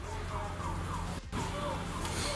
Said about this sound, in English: they were suddenly interrupted by the sound of sirens and the arrival of armed officers